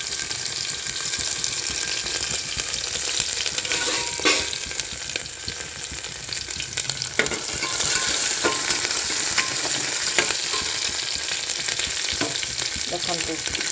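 Crushed garlic frying in a pan, a loud, continuous hiss and crackle with scattered sharper pops and scraping stirs throughout, no voices.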